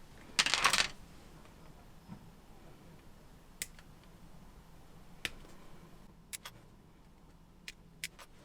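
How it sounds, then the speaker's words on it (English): Plastic parts of a 1/72 Arma Hobby Ki-84 Hayate kit are snipped off the sprue, a sharp cluster of clicks followed by several isolated crisp snips spaced through a quiet room. "I'll snip off the main airframe parts only"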